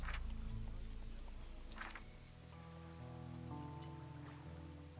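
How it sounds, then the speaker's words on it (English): Rain falling in a video game, a faint steady patter and hiss with soft tonal game sounds layered underneath, no talk. "The rain has picked up."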